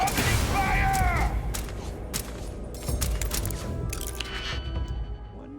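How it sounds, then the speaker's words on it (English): Sci-fi firearms going off in Starfield, a rapid string of sharp bursts and booms with metallic mechanical clanks, loud and close, under a mix of other game sounds. "Opening fire!"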